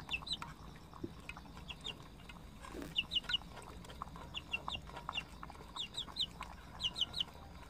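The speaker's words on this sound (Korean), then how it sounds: "꼬꼬야, 니는 계란 먹으면 안 되지" Chickens cluck in short repeated bursts, several birds at moderate distance, with a faint farmyard background hum.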